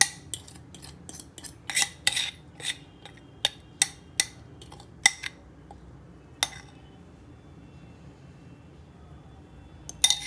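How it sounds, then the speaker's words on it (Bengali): Metal spoon clinks against a bowl as the remaining dried fruit is mixed into a chocolate fruit cake batter, a series of sharp, close taps in bursts, then a long pause and a final pair of clinks. "বাদ বাকি ড্রাই ফ্রুটসগুলো এর মধ্যে আমি মিক্সড করে দেবো"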